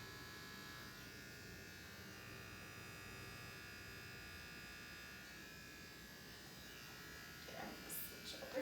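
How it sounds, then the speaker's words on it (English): An electric hair trimmer buzzes steadily at close range as its edge cuts hair around the ear, a constant motor drone holding throughout with brief clicks and rustles near the end. "I'm using the edge of my trimmer to kind of catch the hairs and cut them off to give them a cleaner look"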